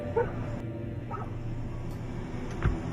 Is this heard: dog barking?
yes